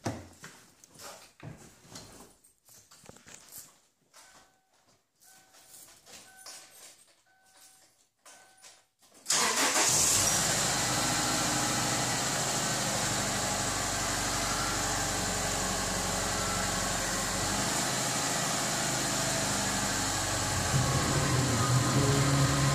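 A Chevrolet Malibu engine in a garage: quiet clunks and rustling, then the engine cranks and catches abruptly and settles into a loud, steady idle with a slight rise near the end.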